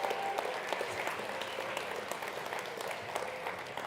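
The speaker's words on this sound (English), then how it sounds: "Let's give them a big round of applause." An audience at a winter sports film event claps together in a full, sustained round of applause, fairly distant and even throughout.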